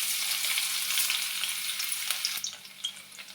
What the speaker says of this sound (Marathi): तेल चांगलं गरम झालं की मग आपण लसूण टाकूयात.